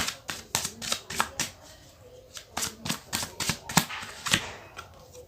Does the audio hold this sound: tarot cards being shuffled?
yes